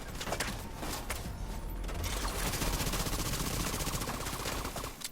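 Rapid automatic gunfire in The Division 2 rattles on steadily for several seconds, loud and dense, building into a continuous stream of shots toward the end.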